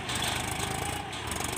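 A Swaraj 744 tractor engine labours steadily at close range, its dense, rough drone holding continuous and loud as it hauls a Mahindra 275 DI tractor and trolley stuck in mud.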